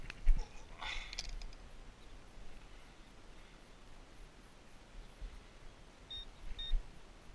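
A Garrett AT Pro metal detector sounds faint short electronic beeps over a target in muddy ground, a couple of brief tones near the start and a pair near the end over steady hiss and light rustling.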